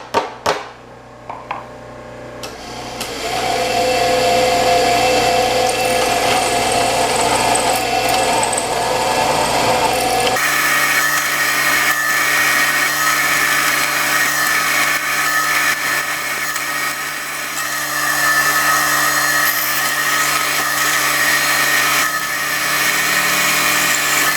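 A loud power drill whirs steadily and continuously, its motor pitch shifting partway through as it bores holes in a foundry match plate, close up with no talking.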